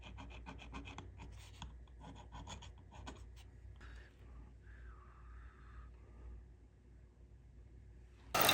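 A hex nut for a Seikosha ship's clock being shaped by hand with a file, close rhythmic rasping strokes for about four seconds, then quieter scraping and near silence.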